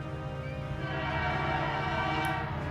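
Horn of the Canadian Pacific Holiday Train, a decorated Christmas train, sounding as a sustained, moderately loud blast over a low rumble of the passing train, with no talk.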